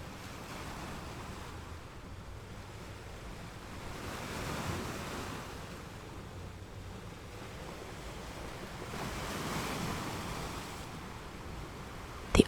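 Ocean surf rolling in soft, steady washes with gentle swells every few seconds, a calm and fairly faint seaside backdrop with some wind and no voices.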